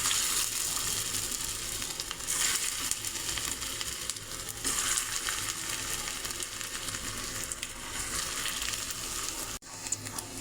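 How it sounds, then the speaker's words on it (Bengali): Flattened fritters (bora) frying in hot oil, a loud continuous close sizzle and crackle with surges of hiss and a brief dip near the end, no talking. "এখন বড়া ভেজে নেব।"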